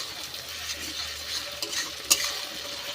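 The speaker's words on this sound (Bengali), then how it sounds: "এই যে পেঁয়াজ টমেটোটা ভাজছি" Onion and tomato fry in a pan with a soft, steady sizzle and occasional scraping stirs and a light utensil clink, fairly quiet throughout.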